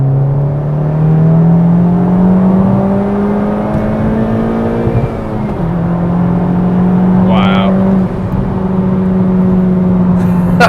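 A modified Honda Civic Type R pulls hard in third gear from inside the cabin, its engine note climbing steadily, dipping briefly at a shift, then rising again, with people talking over the drone.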